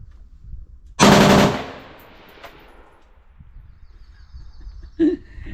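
Two sharp semi-automatic shots from a Krink rifle chambered in 5.56, fired with the stock folded: a loud, close blast with a ringing tail, then a second, shorter report about four seconds later.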